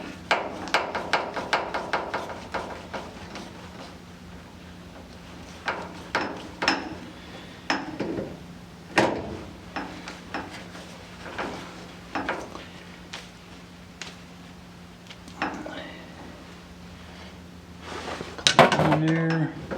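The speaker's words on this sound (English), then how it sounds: "we'll tighten up the hose clamp here and position the hose clamp so it doesn't rub any holes in this other line." Scattered metallic clicks, taps and clinks, dense at first and then sparser, from tightening a hose clamp on a fluid line during a GT3 road race car chassis rebuild, with a louder rattle near the end.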